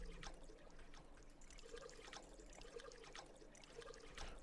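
Water pours steadily in the Deducto video game, a continuous trickling splash running alone at moderate level with short gurgling bursts.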